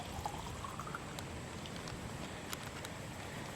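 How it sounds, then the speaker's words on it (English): Liquid from an MRE meal is poured slowly and steadily back into a bottle, a faint continuous trickle under a noisy, hissy background. "So nice and slowly, we'll just pour that back in the bottle."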